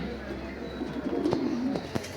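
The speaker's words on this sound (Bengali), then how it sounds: "এখানে দুইটা কবুতর বসে আছে, ওইগুলো হচ্ছে লাল কবুতর" At a pigeon farm, a pigeon gives a low throaty coo close by against a steady room hum, with a couple of faint clicks and knocks.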